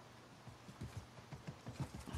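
A horse's hooves clip-clop at a steady walking rhythm in Assassin's Creed Mirage, each footfall a soft, fairly close thud. The steps repeat evenly on their own at low volume.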